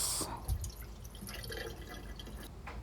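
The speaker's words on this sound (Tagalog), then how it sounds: "Hugasan ko lang yung yung rice." Rice is washed in water, with soft swishing and dripping close by, quiet and continuous after a brief louder splash at the start.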